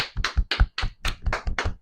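Hand clapping at close range, about eight sharp claps in a quick, slightly uneven rhythm, alone with no talk.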